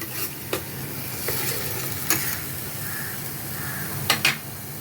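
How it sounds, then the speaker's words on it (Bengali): Masala sizzles in hot oil in a pan for a pointed gourd and yogurt curry. The steady frying hiss runs throughout, with a few scraping stirs of a spoon and no talking. "দেখুন মশলা দিয়ে সমস্ত মশলা একদম কষিয়ে নিয়েছি, তেল বেরিয়ে এসছে একদম"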